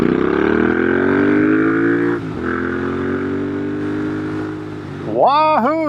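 A custom Royal Enfield Interceptor 650 with a belt drive kit rumbles loud and close while riding, its engine note holding steady, dipping through a downshift, then rising in quick revs at the end.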